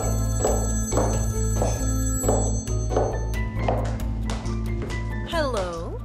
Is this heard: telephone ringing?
yes